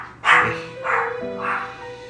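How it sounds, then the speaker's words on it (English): A pet dog barks three times close by, each bark a short, sharp woof spaced about half a second apart, heard alone indoors. "Sorry, that is my dog."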